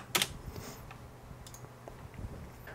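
Someone types briefly on a computer keyboard, a short burst of sharp clicks near the start and then a few scattered, softer keystrokes against a quiet room background.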